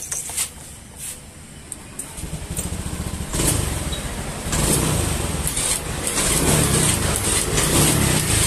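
Honda Beat scooter with a sputtering, power-lacking engine, revved in a few rising bursts that grow louder and steadier toward the end, close by with no talk.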